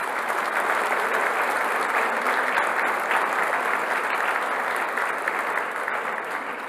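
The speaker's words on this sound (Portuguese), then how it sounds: "Pode aplaudir Jesus." A church congregation at a celebration service breaks into loud, sustained applause, a thick unbroken wash of many hands clapping that fills the room evenly from start to finish.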